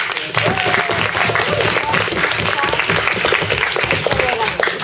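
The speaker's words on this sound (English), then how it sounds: "if we could a round of applause for all of the participants" A room full of participants and spectators at a university debating competition clapping in a sustained round of applause, steady and close, with some voices mixed into the clapping.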